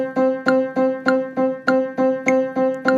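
Evenly spaced piano eighth notes repeat steadily on one pitch, about ten crisp struck tones in a brisk even rhythm, close and clear with no voices.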